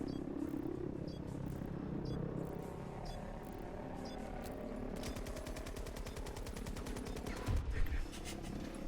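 Minigun firing in Battlefield 2042, a fast continuous rattling burst in the second half under steady battle noise and vehicle rumble, with a louder thump near the end.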